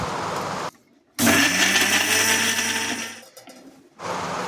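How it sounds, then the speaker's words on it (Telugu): A mixer grinder coarsely grinds ginger, cumin and coriander in one loud, whirring burst of about two seconds, then winds down, with quieter kitchen noise before and after. "ఇప్పుడు చూపించిన అన్నిటినీ మిక్సీలో వేసుకొని బరకగా మిక్సీ పట్టుకోవాలి"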